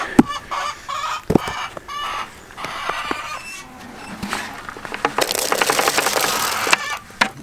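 Chickens clucking in a coop on a snowy homestead, several birds calling in short bursts close by, with wooden knocks and rustling, and a busier scratchy stretch toward the end.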